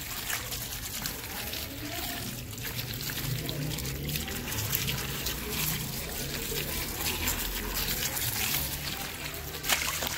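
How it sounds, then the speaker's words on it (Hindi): Water pours over freshly picked, chopped chillies, a continuous splashing trickle that carries on for several seconds close at hand, with faint background noise and sloshing around it. "इधर ही इसको पानी डाल देते हैं"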